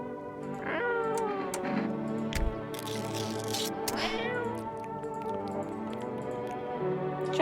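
Repeated close meows from a cat in the analog indie horror game No, I'm Not A Human, several long plaintive calls spread across the stretch, loud and alone.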